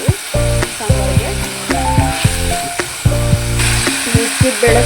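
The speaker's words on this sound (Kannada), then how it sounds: "ಬೇಳೆ ಏನಿದೆ ಇದನ್ನು ಆ್ಯಡ್ ಮಾಡ್ಕೊಳ್ಳೋಣ. ನೋಡ್ಬೋದು, ಇವಾಗ ಫ್ರೈ ಆಗ್ತಾ ಇದೆ." Lentils for sambar fry in a pan, giving a bright, continuous sizzle with occasional stirring knocks, while a loud tune plays steadily underneath.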